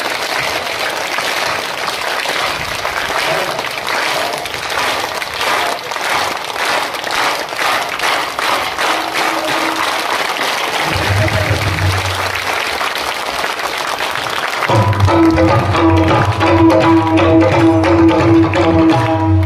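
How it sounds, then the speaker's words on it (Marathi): A village kirtan audience claps together on request, a dense, sustained round of applause from many hands that grows louder and fuller toward the end, with harmonium-like musical tones entering underneath. "फक्त टाळी एक आवाज आला पाहिजे बघा."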